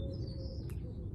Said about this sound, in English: You can hear the birds sing around here, so they're happy.